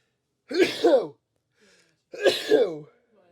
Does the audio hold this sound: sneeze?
yes